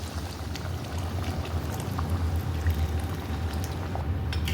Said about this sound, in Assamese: 3জনৰ অনুসৰি পানী ঢালি দিলোঁ